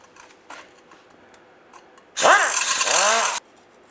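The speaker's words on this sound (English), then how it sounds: "This one, I'm just going to have to cut it off." A cutting tool bites into a rusty exhaust flex pipe connection under a 2007-2013 Chevrolet Silverado, a loud harsh whine lasting about a second after a few faint clicks and taps, then cutting off abruptly.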